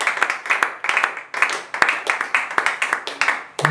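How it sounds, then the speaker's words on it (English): Crowd applause for an executive director at a women's empowerment foundation event, several seconds of brisk, dense hand clapping in rolling waves, near and moderately loud, with no talking over it. "A round of applause for Executive Director."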